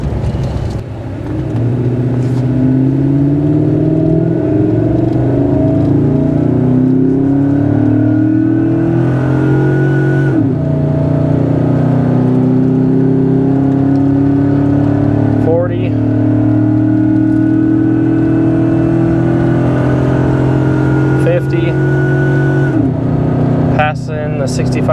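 Work truck accelerating hard from a stop in a 0 to 60 test, the engine droning and rising in pitch through several gear shifts, loud from inside the cab with someone talking over it.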